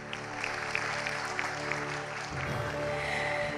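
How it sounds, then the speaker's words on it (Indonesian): A studio audience at a national political talk show claps, a steady moderate patter of applause under a sustained musical bed that shifts partway through, with no talk over it. "Tepuk tangan yang meriah."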